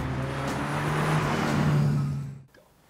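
The 3.2-liter V8 of a Ferrari 328 GTS revs loudly and close with a rising, straining tone for about two seconds, then abruptly drops off to quiet.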